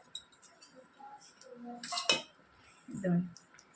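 A spoon scraping and clinking against a pot while stirring a thickened homemade ice cream mixture, with a few light metallic taps and a louder scrape near the middle and end, close and otherwise quiet.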